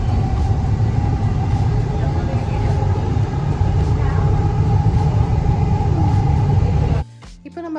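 Metro train running near Nagasandra station, the last stop, with a steady loud low rumble and rail noise throughout and faint higher whine, cutting off abruptly near the end.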